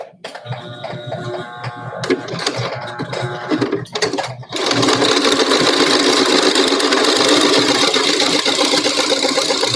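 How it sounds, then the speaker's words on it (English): A sewing machine runs a straight stitch across a fabric mask, with short bursts and pauses early on, then a steady, loud, continuous run of stitching. "We're just going to put it in our machine and make a straight stitch all the way across."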